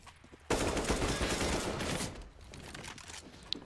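Pistol gunfire rattles in a Counter-Strike: Global Offensive esports match on the Cache map, a sudden dense burst of shots that starts abruptly and then tapers into quieter scattered fire.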